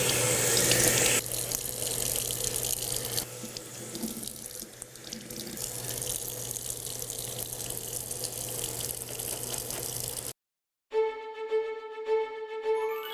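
Water runs steadily from a sink tap as pieces are wetted, a continuous close splashing hiss that briefly cuts out near the end before resuming.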